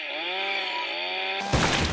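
An animated chainsaw revs in a high, steady buzzing whine for over a second, then cuts into a harsh crunching, tearing burst.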